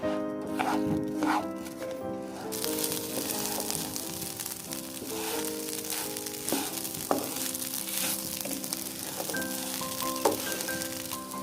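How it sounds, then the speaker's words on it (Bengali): Pulao rice grains crackle and sizzle steadily as they fry in spices in a hot pan, with occasional scraping stirs and a faint musical background throughout. "ভালো করে মশলাতে ভেজে নিচ্ছি"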